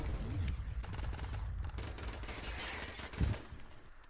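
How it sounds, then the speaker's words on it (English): Faint, scattered gunfire in Modern Warfare Remastered Prop Hunt mode, with distant automatic bursts and one slightly louder nearby thump toward the end. "he was shooting at everything but me, and he just walked past me"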